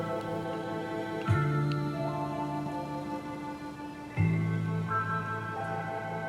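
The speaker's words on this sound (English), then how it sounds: "What you are hearing now is the 10-speaker Bose sound system, standard on the Grand Touring." A 10-speaker Bose sound system in a 2017 Mazda CX-5 Grand Touring plays music inside the cabin at a steady moderate level, with sustained chords shifting twice and no talking.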